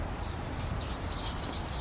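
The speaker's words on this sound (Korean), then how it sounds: "지금 새소리밖에 안 들리고요" Birds chirp and sing in a small garden beside a lake in Kitakyushu, their calls thin and moderately distant over a steady low outdoor rumble, with no voices.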